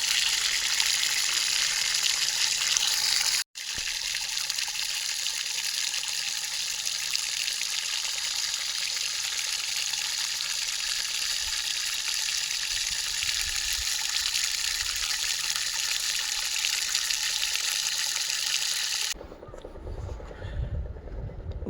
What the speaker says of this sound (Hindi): पानी तो खूब आया है